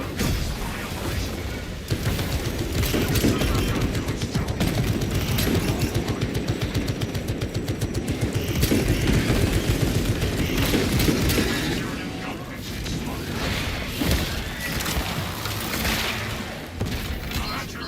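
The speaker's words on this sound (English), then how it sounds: "Look at the sentry gun going to work." Automated sentry gun in a Warhammer-style shooter firing long sustained bursts, dense rapid gunfire with booms and mechanical clatter filling the scene throughout, loud and close.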